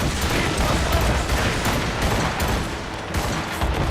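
Dense gunfire erupts during an ambush in Assassin's Creed Rogue, a continuous loud fusillade of overlapping shots and cracks filling the whole stretch without pause.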